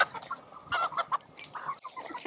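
Chickens cluck on a chicken farm, several close, loud bursts of clucking and squawking in uneven clusters.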